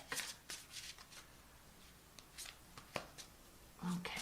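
A tarot card deck is shuffled close by in several quick riffling bursts with soft pauses between them, quiet and crisp, with a low thud near the end.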